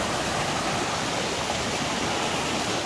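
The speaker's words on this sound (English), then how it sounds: "There's a waterfall up there." A mountain waterfall near hot springs in the Philippines, heard as a steady, dense rushing roar that stays constant throughout.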